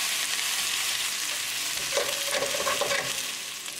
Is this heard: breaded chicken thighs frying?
yes